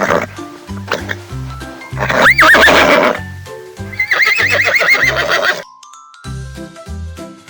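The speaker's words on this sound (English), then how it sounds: "It's a horse." A horse neighs with a loud, shrill whinny, accompanied by clip-clopping hooves and a light jingle over a backing of rhythmic music.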